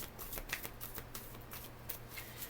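A deck of tarot cards being shuffled, with repeated crisp riffling bursts in a steady rhythm, close and fairly quiet, with no talking.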